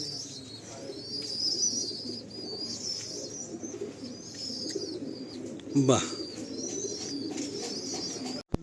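Pigeons coo in low rolling calls inside a pigeon loft, with faint chirps above and a brief heavy bump near the end. A voice talks over the birds.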